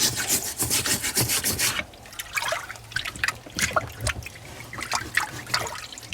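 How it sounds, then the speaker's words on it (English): A wire brush scrubs and rasps over soaking parts from a Tigershark TS1000R jet ski, with wet, gritty strokes alongside liquid trickling, steady and close for a couple of seconds, then in shorter irregular bursts. "I also take a brush, a wire brush, like this, and just kind of go around and start loosening everything up"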